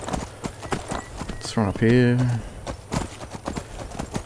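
A horse in the game Skyrim, ridden by the player, gallops with rhythmic clip-clopping hooves and lets out a brief whinny midway, while someone talks over the sound.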